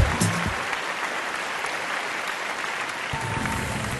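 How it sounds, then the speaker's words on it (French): Audience applause fills the hall at the 2012 Miss RD Congo pageant in Katanga, a sustained, moderately loud wash of clapping with brief bits of voice near the start and end. "Sous vos applaudissements,"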